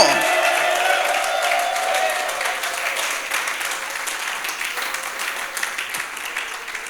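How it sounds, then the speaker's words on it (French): A church congregation applauds and cheers after a call for shouts of joy, a broad steady clapping crowd with some voices mixed in, gradually fading slightly. "Est-ce qu'on peut pousser des cris de joie avec des acclamations?"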